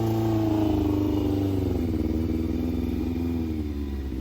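A Yamaha Fazer 600 (FZ6) motorcycle engine runs close and loud, holding a steady idle throughout after catching, with a brief dip in the rumble midway.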